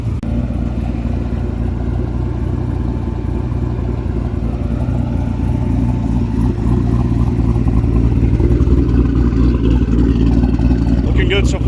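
A twin-turbo C6 Corvette Z06 driving on a road, its engine and exhaust a steady loud drone with road rumble running throughout from start to finish.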